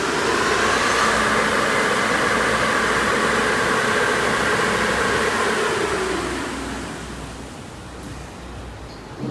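A Tesla-swapped Audi S5 spins up on a dyno, producing a loud steady whirring roar that fades toward the end, with no voices.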